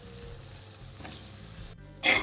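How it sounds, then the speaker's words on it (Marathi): Semolina is stirred as it roasts on a low gas flame for rava ladoo, a soft continuous sizzle and faint scraping that ends in a brief louder scrape, close and quiet, with no voices. "वीस मिनिट असंच कमी गॅसवर फिरवत राहू"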